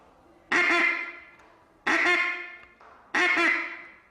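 Three loud, nasal quacking blasts blown on a mallard duck call to imitate a gray duck, each a raspy burst that trails off, spaced about 1.3 seconds apart with quiet gaps between.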